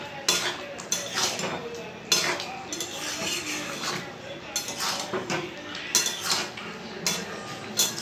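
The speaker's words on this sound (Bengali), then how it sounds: "একটু নাড়াচাড়া করে নামিয়ে নেব এবার।" Chilli chicken is stirred in a pan, a utensil scraping and clinking against the metal in repeated irregular strokes, close and clear, with a faint sizzle underneath.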